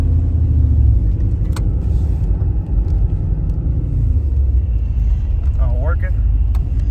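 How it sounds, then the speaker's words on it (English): A 1986 Pontiac Firebird Trans Am on a test drive in Kentucky gives a steady, loud, low engine and road rumble from inside the car, with a few faint clicks and rattles over it. "we're gonna take this 1986 Firebird TransAm for a test drive"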